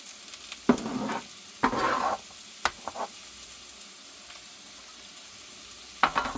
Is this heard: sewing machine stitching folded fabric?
no